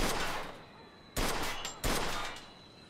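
Three loud gunshots fired at a car's gas tank in the game Mafia 2, each a sharp close crack with a ringing decay, the first followed by the other two spaced about a second apart.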